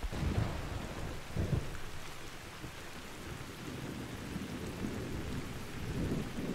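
A thunderstorm in the hunting game The Hunter: Call of the Wild, set in Africa, with steady heavy rain and low rumbling thunder rolling in waves, loud and close with no talking.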